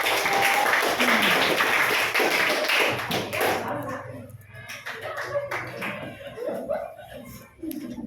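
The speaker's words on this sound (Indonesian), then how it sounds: "Tepuk tangan untuk kelompok 1." Classmates in an Indonesian school lesson clap for group 1, a dense patter of hands that thins out midway, mixed with chatter and a little laughter from the room.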